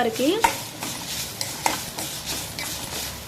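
Grated carrot frying for carrot halwa, stirred with a spoon that scrapes and clinks against the pan in repeated strokes over a steady sizzle, close and clear, with no voices.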